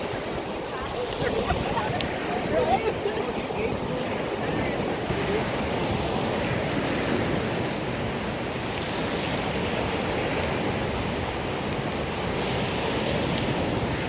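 Ocean surf breaking on a sunny Sanibel Island beach with the tide coming in, a steady wash of waves mixed with wind buffeting the microphone, continuous and fairly close.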